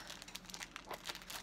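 A diamond painting package is opened, giving quiet plastic crinkling and rustling in short irregular bursts, close by and faint, with no voices.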